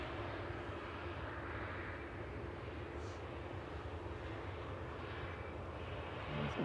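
An Aegean airliner at Manchester Airport makes a faint, distant, steady engine rumble that holds evenly across the whole stretch, with no talking.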